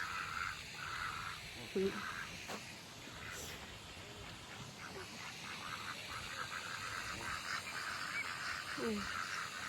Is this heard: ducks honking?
yes